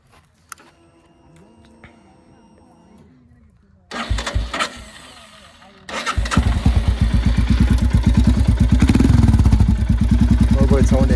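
A modified, stage 2 tuned Royal Enfield Himalayan 411 starts close by: quiet ticking, a cranking burst, then the engine catches into a loud, rapid, throbbing idle with a deep exhaust.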